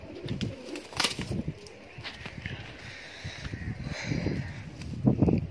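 Pigeons of a high-flyer breeding pair coo softly in short repeated bursts close by, with light rustling and shuffling sounds around them.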